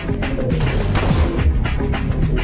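Pistol gunshots ring out in a video game match of one gorilla against a hundred players, a dense run of sharp booming blasts that stays loud and close throughout with no talk.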